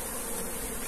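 A swarm of Africanized honey bees buzzes inside a bucket, a dense continuous drone close to the microphone and steady throughout.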